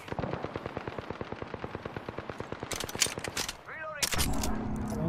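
Gunfire in the video game Apex Legends: a rapid, evenly spaced burst of automatic fire rattles loudly and close, followed by sharp impact and ability effects and a layered electronic whine.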